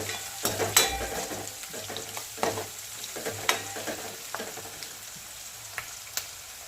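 Garlic fries in a pan with a soft, steady sizzle, punctuated by sharp spatula scrapes and taps that grow sparser as the sizzling settles.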